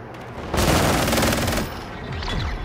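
Loud, close automatic gunfire in Call of Duty: Modern Warfare II, a sustained rapid burst of about a second followed by quieter scattered shots and echoes.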